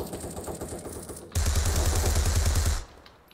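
Automatic gunfire in the online shooter Kruker.io, a faint rapid burst followed by a louder, sustained stream of rattling shots for about a second and a half, then cutting off abruptly.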